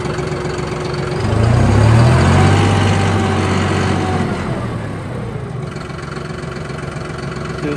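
A John Deere 5065E tractor engine runs steadily nearby with a low, heavy rumble that swells briefly as it revs, then settles back to a constant idle.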